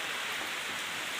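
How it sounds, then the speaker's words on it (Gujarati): Heavy, ongoing rain falling over a village, an unbroken, dense hiss of drops without pauses or distinct single impacts. "વરસાદ અત્યારે ચાલુ જ છે."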